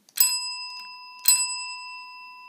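An electric bell driven through a USB-to-serial adapter and transistor rings twice, each strike a sharp metallic ding with a long sustained ring, heard close and alone.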